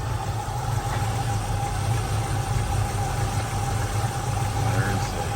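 A cold 1972 Chevrolet Nova SS V8 running smoothly at idle, a steady low engine hum with a faint whine, continuous and close, with a voice speaking over it.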